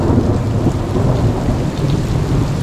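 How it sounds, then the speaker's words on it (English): A thunderstorm right overhead in Italy brings heavy, flooding rain, with a loud, steady, dense hiss of downpour rumbling close by and no voices. "there's a thunderstorm right overhead, and yeah, check this rain out. It's flooding everywhere."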